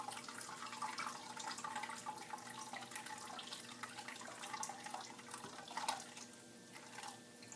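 Lye water solution poured into soap oils for a dandelion-infused rice flour and shea hot process soap, a steady soft liquid trickle and splash lasting several seconds, close and fairly quiet.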